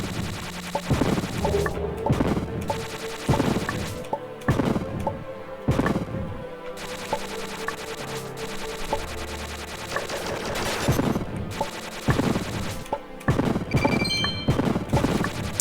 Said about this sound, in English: these cannons can't hit me now because the blocks are blocking them